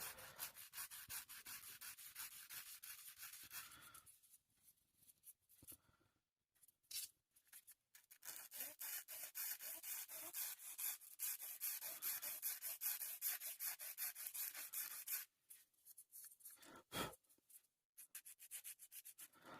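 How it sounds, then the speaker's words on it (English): Clear plastic model kit parts for a Revell Razor Crest are gently sanded with 400 grit sandpaper, a close, quiet, continuous raspy rubbing in long strokes broken by brief pauses. "Just give them a light sand just to bring them back."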